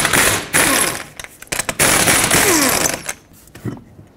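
An impact wrench rattles off the lug nuts on a Toyota Corolla wheel, several sharp loud bursts of hammering buzz separated by short gaps, with clinks at the end.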